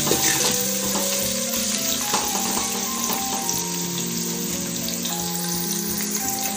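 Onions frying in a pan with salt mixed in give a loud, steady, close sizzle that crackles continuously, with no talk.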